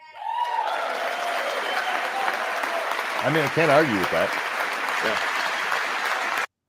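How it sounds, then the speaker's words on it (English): A Congress audience claps loudly and continuously throughout a Trump address in a large hall, with a person speaking over the sustained applause. "I wish I just had a way to silence their damn clapping"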